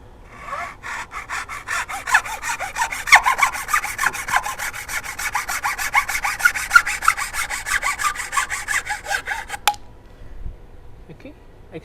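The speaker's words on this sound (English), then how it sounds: "I'm just going to do a little cross cut here with the saw" A hand saw makes a small cross cut in wood on a mini woodworking bench, a steady rhythmic rasp of rapid back-and-forth strokes that runs close and loud for about ten seconds before stopping, with brief talk alongside.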